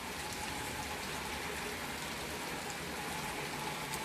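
Steady rain falls on a stormy day, a dense, even hiss of drops that stays constant and fairly loud throughout with no pauses and no voices.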